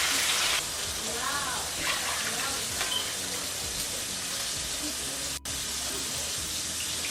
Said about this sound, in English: Okay, so I added 6 cups of water.